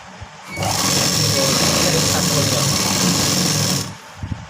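Sewing machine stitching a blouse, a steady close mechanical whir that starts abruptly, runs continuously for about three seconds, then stops, with soft handling noises around it.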